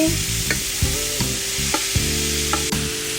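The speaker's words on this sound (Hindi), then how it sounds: "इसमें हम अभी ये जो धुल के पोहा रखा है इसको ऐड कर देंगे" Soaked poha tipped into a hot pan of sautéed ingredients on medium flame for Punjabi-style paneer poha, with repeated scraping and stirring strokes over a steady sizzle, close up and without talk.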